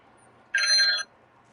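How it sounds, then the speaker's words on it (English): A telephone rings once with an incoming call, a short bright electronic ring burst of about half a second, clear and isolated against quiet background. "Oh, what's this? Phone call."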